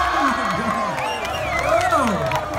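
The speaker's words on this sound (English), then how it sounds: "Applause for these two, please." A street crowd in Bourke Street Mall applauds and cheers for two dancing kids, with whoops and raised voices rising over a steady wash of clapping and crowd noise.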